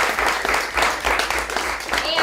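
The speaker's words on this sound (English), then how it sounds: "let's give you guys another round of applause" A round of applause for the debaters fills the room at a debate, with dense overlapping clapping that rises and falls in waves while a voice talks over it.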